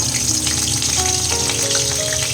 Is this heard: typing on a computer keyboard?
no